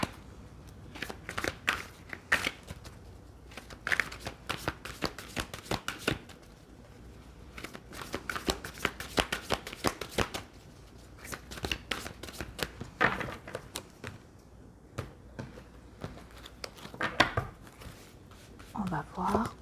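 A tarot deck is shuffled over and over at close range, a steady run of crisp riffling and slapping card sounds that runs throughout, with occasional soft speech.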